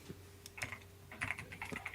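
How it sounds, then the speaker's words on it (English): Keys on a computer keyboard clack in quick, uneven bursts of taps, close and moderately quiet, with a faint steady hum underneath and no one talking. "Let me hear the keyboard."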